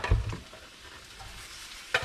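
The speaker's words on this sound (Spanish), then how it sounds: "mientras nuestra cebolla se está dorando" Onion browning in a pan for a red chilaquiles sauce gives a soft sizzle with a few close scraping stirs, brief and fairly quiet, with no talking.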